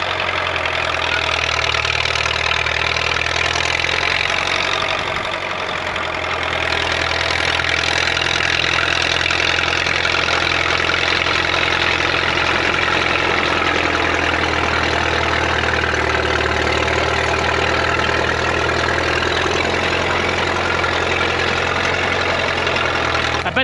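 A rebuilt Caterpillar D4 crawler tractor runs loud and close, its diesel engine holding a steady rumbling idle with a brief dip around the middle before settling back to the same even drone.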